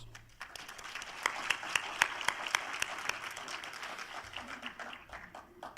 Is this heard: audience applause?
yes